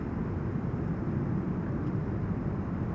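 Airliner landing at Amsterdam Schiphol with thrust reversers deployed, a continuous broad low roar holding steady and loud at a distance throughout.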